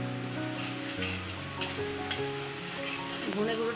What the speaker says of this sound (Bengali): ধনে গুঁড়োটাকে দিয়েও একটু তেলের মধ্যে ভেজে নেব